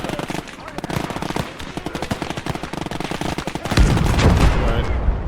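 Grenadier infantry fire in Gates of Hell Ostfront as a dense run of rapid gunshots and bursts, loud and continuous, ending in a heavier rumbling blast near the end, with a voice talking over it.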